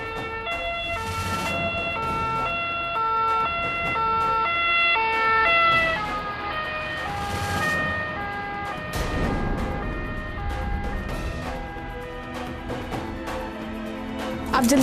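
Ambulance siren wailing loudly through traffic on a Karol Bagh street, its tones sweeping and overlapping with other horns and road noise, staying close and prominent throughout.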